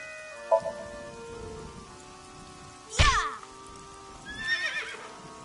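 A horse whinnies in a PS4 video game, with sharp neighing bursts near the start, a loud one around the middle and another toward the end, over a quiet backdrop of steady tones.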